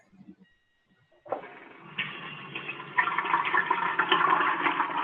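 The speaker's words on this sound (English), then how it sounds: "Somebody's flushing their toilet." A toilet flushes in a home during an online call, starting after a short quiet pause with a sudden rush of water that swells and keeps roaring steadily, heard close through a microphone with no speech.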